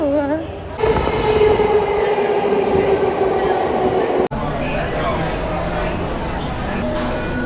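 A Tokyo rail system train rolls along with a steady rumble and a rising motor whine, then a sharp clunk and continuing rolling noise, all close and loud, with voices talking inside the car.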